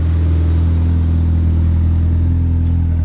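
A Toyota car engine idles steadily up close, a loud, constant low hum and whir that holds unchanged throughout with no talking over it.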